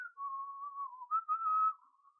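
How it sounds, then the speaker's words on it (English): A person whistles a wavering two-part tune, one steady held pitch that steps up partway through, close and alone with no talk, then trails off into quiet. "Oh, I kinda fucked up on my whistle."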